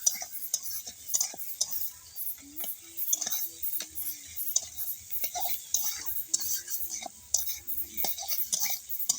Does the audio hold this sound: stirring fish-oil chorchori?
yes